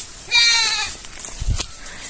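A single goat bleats loudly with a wavering, nasal call lasting about half a second, followed by faint rustling and soft thuds nearby.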